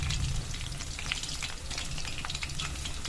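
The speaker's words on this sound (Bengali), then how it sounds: "এই সময় গ্যাসের ফ্লেমটা লোতে রেখে 5-7 মিনিট ভেজে নেব" Vegetarian pakoras fry in oil over a low gas flame, a steady, even bubbling sizzle with a rain-like patter that continues without pause throughout.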